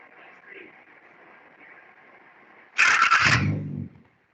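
A car engine is cranked and starts during a MAP sensor diagnostic lesson, a loud burst of starter whine and catch near three seconds that settles into a low idle before cutting out, after quiet background talk.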